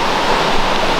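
A river near Upper Souls Creek Falls in North Carolina rushes in a steady, loud broadband wash, heard close and unbroken.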